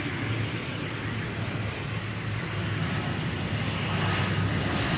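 KLM aircraft arriving at Amsterdam Schiphol Airport, a steady, loud engine roar from a landing airliner heard from outside, a broad constant rumble that swells slightly toward the end.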